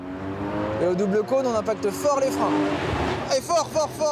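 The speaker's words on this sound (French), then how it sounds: "on y va, on accélère bien jusqu'au double cône." A car accelerates hard toward a pair of cones, its engine note climbing in repeated rising sweeps with the revs, while someone shouts encouragement over the top.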